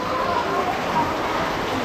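Steady rain during a tropical storm in Naga City, Philippines, a dense continuous hiss of falling water close by, with faint voices mixed in.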